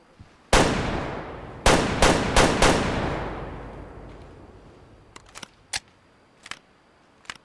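Rifle shots in the hunting game Way of the Hunter: one loud crack at the start, then three quick shots in succession, each with a long rolling echo, followed by several fainter short clicks or snaps.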